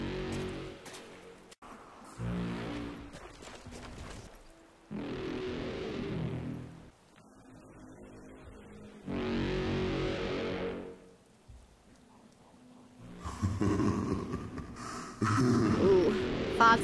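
Foghorns in the Call of the Dead zombie map sound one after another in the correct order: four long, low, droning blasts with quiet gaps between them, distant and faint.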